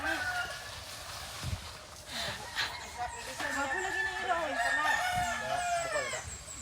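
Chickens cluck and a rooster crows repeatedly in an outdoor setting in the Philippines, the bird calls fairly close and layered under intermittent talking.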